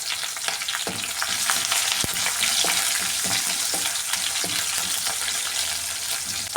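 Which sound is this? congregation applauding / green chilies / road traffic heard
green chilies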